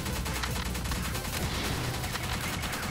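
Continuous dense bursts of explosions and rapid weapon fire from grenades being set off in the top-down shooter game Pineapple Smash Crew, loud and unbroken throughout with no pauses.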